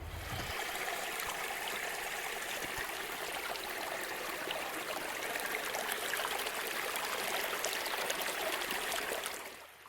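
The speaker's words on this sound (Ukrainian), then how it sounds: "тут є джерело з питною водою" A mountain spring of drinking water runs with a steady, soft trickling wash that continues unbroken and fairly faint, with no voices.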